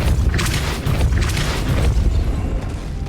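A Depulso spell fires in the Hogwarts Legacy video game, a sustained booming, rumbling blast that fills the whole three seconds at steady loudness with crackling bursts on top.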